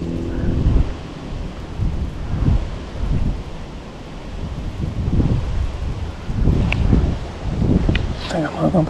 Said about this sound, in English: The way the wind's blowing.